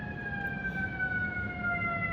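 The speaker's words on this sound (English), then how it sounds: "A lot of ambulances today for some reason." An ambulance siren wails, sweeping in steady tones across the whole stretch, moderately distant, with faint traffic rumble beneath.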